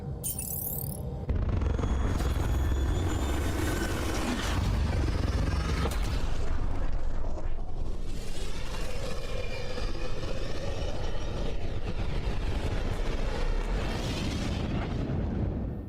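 Tempest spaceship departing in Mass Effect Andromeda, a loud sustained rumbling roar with booming bursts that builds and continues steadily throughout, with no talking.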